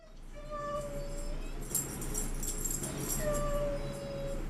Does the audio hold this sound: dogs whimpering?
yes